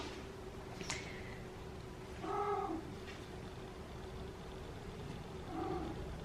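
Domestic cat indoors giving two soft, drawn-out meows a few seconds apart, with a faint low purr underneath in a quiet room.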